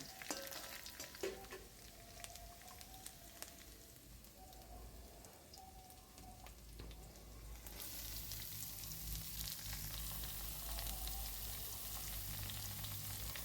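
Chopped carrots and beans fry in a pan with ginger and green chili for vegetable uppumavu, a soft, quiet sizzle that grows into a fuller, steady hiss partway through, with no talking.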